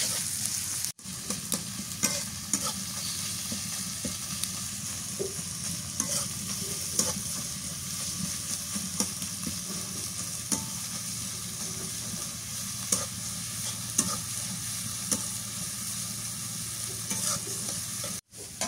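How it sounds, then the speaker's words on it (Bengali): Onions lightly frying in a pan for beef pulao, a steady close sizzle with frequent soft scrapes and clicks of stirring running almost the whole time, without talk. "পেঁয়াজটা হালকা করে ভাজি, বেশি ভাজবো না এটা।"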